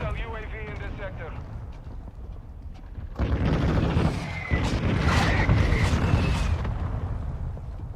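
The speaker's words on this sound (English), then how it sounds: "Hostiles launch the mortar strike" Mortar strike explosions in Call of Duty Modern Warfare II: a sudden loud blast at about three seconds, then sustained rumbling booms and debris noise that stay heavy to the end, with radio voice chatter heard before the impact.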